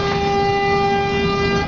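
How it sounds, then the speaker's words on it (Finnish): A city bus on route 156 sounds its horn in one steady, loud, close honk of nearly two seconds, with no speech. "Ja nyt tää bussi tööttäis"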